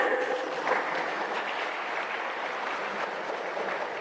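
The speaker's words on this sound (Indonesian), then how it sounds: "kita beri aplaus dulu untuk semua peserta" Sustained, even applause from a crowd at a Quran comprehension quiz final, a broad continuous wash of many hands clapping for the contestants, moderately loud and unbroken throughout.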